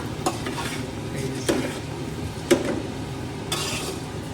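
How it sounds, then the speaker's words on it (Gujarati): Spice masala being mixed slowly into puffed rice makes a dry rustle and scrape, with spoon strokes landing at roughly one-second intervals over a faint background hiss. "મિક્સ કરી ધીમે ધીમે નીચેનો મસાલો આખા મમરાઓમાં"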